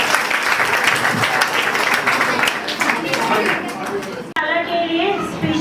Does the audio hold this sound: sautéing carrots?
no